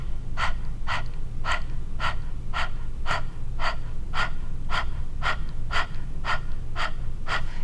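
Rapid open-mouthed panting during a yoga breathing exercise, about a dozen short, even, forceful breaths in a steady rhythm, close and clear over a low room hum, with no talking.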